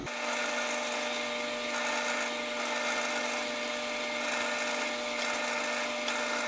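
A drill bores half-inch eye socket holes into a homemade tuna popper fishing lure, giving a continuous high-pitched whine that holds steady throughout with slight wavering.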